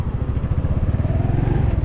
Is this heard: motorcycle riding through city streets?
yes